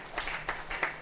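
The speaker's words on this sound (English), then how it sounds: "Let the applause not cease" Applause at a school's 80th anniversary award ceremony comes as a brief round of scattered clapping. It swells in a few soft bursts across about a second and sounds somewhat distant.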